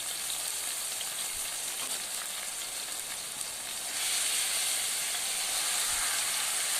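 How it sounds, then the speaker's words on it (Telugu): A coriander and fish curry base frying in a pan for Godavari pulasa fish pulusu, with a steady close sizzle and hiss that grows louder and brighter near the end. "ఆ తర్వాత కొత్తిమీరని కూడా యాడ్ చేసుకొని ఫ్రై చేసుకోవాలి."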